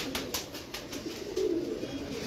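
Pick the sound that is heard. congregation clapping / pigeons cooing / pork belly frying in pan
pigeons cooing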